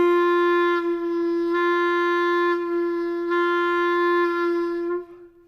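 A clarinet sustains a steady open G as the tongue rests lightly on the vibrating reed, giving a single held, even tone with slight texture changes before it cuts off at the end; no speech.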